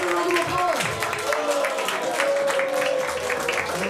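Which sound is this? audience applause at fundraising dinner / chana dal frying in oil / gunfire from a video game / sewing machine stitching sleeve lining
audience applause at fundraising dinner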